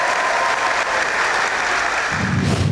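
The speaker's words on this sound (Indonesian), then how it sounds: "jadi kita berikan aplaus untuk Ibu Guru yang luar biasa ya" Audience applause for a teacher at a campus event, steady dense clapping from a crowd with no speech over it, rising at the very end.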